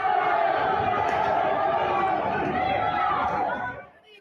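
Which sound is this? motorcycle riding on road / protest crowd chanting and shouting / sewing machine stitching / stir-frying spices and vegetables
protest crowd chanting and shouting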